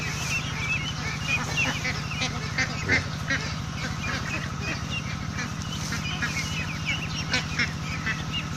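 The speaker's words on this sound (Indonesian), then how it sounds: "Ini bebek ini yang siap panen dari teman-teman." Flock of local and hybrid meat ducks ready for harvest at a duck farm, a dense continuous chorus of honking quacks close by, with someone talking over the noise.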